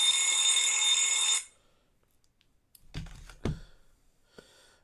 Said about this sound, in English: My phone is going off.